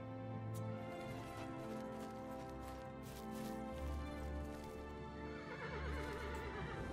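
A horse in the video game Oblivion whinnies while its hooves clip-clop at a walking pace, the neighs rising over steady hoofbeats with no talking.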